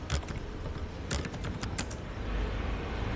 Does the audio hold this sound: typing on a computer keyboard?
yes